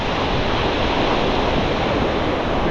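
Strong wind and surf roar at Chesil Beach before Storm Darragh, a loud, continuous broadband rush without breaks or voices.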